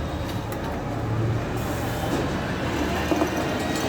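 A rewound TGL ceiling fan running on a series line gives off a steady, continuous low hum and whir with a faint rattle, even in level throughout with no voices.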